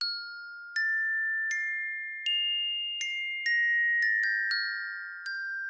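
Bright synthesized bell tones from a free Christmas VST plugin strike one after another in a slow, uneven melody, each ringing clearly and decaying with a shimmering tail.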